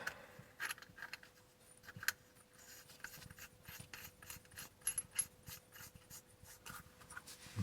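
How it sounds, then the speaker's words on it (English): By hand, a bolt-in hose outlet is tightened onto a hose, giving quiet, close ratcheting clicks and rubbing mechanical sounds in an irregular rhythm, with no speech. "And tighten it up, and you can see as you tighten it flattens the inside of the hose"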